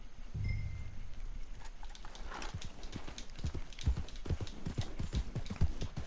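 Steady clip-clop of horse hooves at a walking-to-trotting pace while riding in the Red Dead Redemption 2 video game, close and even, over faint outdoor ambience.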